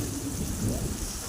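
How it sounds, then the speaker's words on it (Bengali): A thunderstorm raging outside during a downpour, heard from indoors as a steady wash of rain with low rumbling swells, moderately loud and continuous with no talk. "বাইরে এখন আকাশ চমকাচ্ছে, খুব ঝড় হচ্ছে।"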